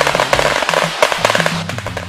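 Banned German New Year's Eve firecrackers go off in a rapid, irregular string of sharp bangs and crackles. They sound near and loud over about two seconds, with no voices.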